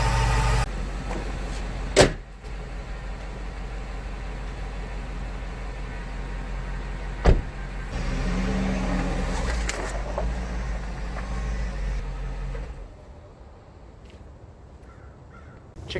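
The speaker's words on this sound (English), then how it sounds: "As you can hear, she is purring like a kitten." A Yukon Denali's 6.0 LQ4 V8, after an oil pickup tube O-ring and oil pan gasket repair, idles with a smooth, steady low hum that drops away near the end, broken by a couple of sharp outside noises.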